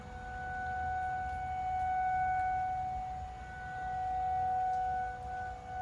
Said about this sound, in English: Like we've got sirens.